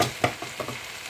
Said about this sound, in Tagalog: ilalagay ko naman yung tauge